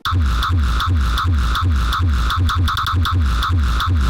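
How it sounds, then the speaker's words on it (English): A punchy electronic kick drum sample repeats in a steady, fast pattern, booming low end with bright clicky transients, loud and continuous with layered hi-hat-like ticks. "Now this kick is the first one that I've used."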